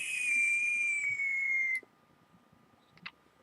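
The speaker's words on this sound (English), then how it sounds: "It really does whistle." An EHPRO Atomic clone vape atomizer gives a loud, steady high-pitched whistle for nearly two seconds, then cuts off abruptly, leaving a faint background with a brief chirp.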